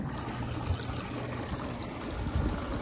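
Steady trickling and gurgling of water running out of a Bestway Flowclear Aquaclimb automatic pool cleaner hose once the plug is pulled, a soft continuous flow close by with no talk.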